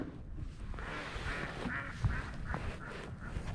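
Ducks on water quack in a rapid, laughing cluster of calls, fairly close and steady throughout, with little else competing.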